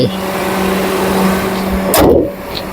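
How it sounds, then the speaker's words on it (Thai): A 2015 Toyota Altis 1.6 G idles with a steady, even engine hum close by, with a brief louder whoosh of noise near the end. "เครื่องยนต์นิ่ง นี่"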